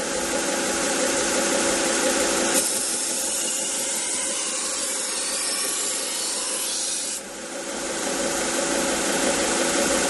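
A knife blade grinds against a running belt on a 1x30 belt sharpener, a continuous abrasive rasp over motor hum that shifts in tone midway through the pass, with no talking.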